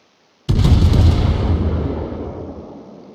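A warship video game's naval gun fires and its shell explodes, one loud sudden boom that starts sharply and rolls away into a long, slowly fading rumble.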